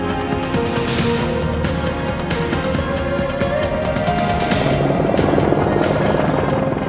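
Boeing AH-64 Apache twin-engine attack helicopter giving off a loud, steady roar of rotors and engines that holds throughout, swelling slightly near the end, with no voices.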